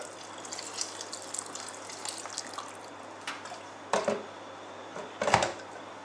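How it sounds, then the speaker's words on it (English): Hot water trickles and splashes into a pot of Andean porotos con pilco bean stew, soft dribbling with two brief louder gushes near the end. "add just a little bit more hot water"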